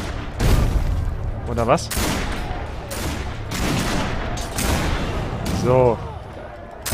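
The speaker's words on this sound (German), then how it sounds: "Ich sollte hier wahrscheinlich auf die Fässer schießen" Gunshots aimed at barrels in Risen 3: Titan Lords, a few sharp bursts and booms scattered through game noise while someone talks over them.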